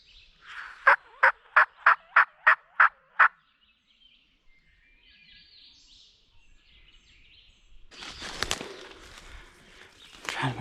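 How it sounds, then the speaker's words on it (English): A wild turkey gobbles in a rapid burst of about eight loud, evenly spaced notes, followed by a pause with faint rustling and then louder movement noise nearby. "I found the bird gobbling."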